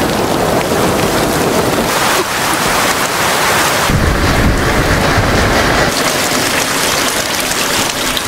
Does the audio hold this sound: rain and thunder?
yes